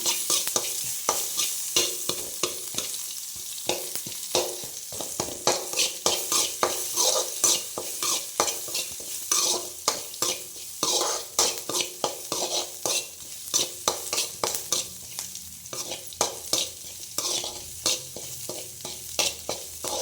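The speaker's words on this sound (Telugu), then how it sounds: "ఈ ఆనియన్స్ ఇంకా వేగలేదు కాబట్టి కొద్దిసేపు వేయిద్దాము" Onions sizzling and frying in hot oil, with frequent scraping stirs of a spoon against the pan throughout.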